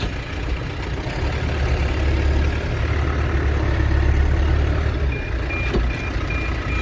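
A tractor or farm vehicle pulls away across a field, its loud steady engine rumble dominating throughout, with a faint intermittent beep near the end.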